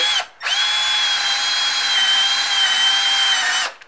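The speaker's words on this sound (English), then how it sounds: "Usually if you're just drilling into drywall, you just go through a very thin like layer" A power drill whines steadily as it bores into a wall stud in a garage, one continuous loud run of about three seconds with brief pauses at start and end.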